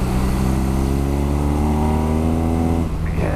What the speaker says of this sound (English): that motor sounds nice